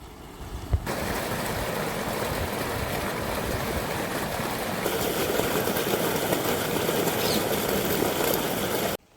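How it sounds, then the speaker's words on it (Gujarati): A farm water pump motor runs to irrigate a vegetable plot, giving a loud steady whooshing roar of rushing water and motor noise that holds evenly throughout and cuts off abruptly at the end, with no voices. "મોટર હાલતી કરી દીધી પાણી જાય"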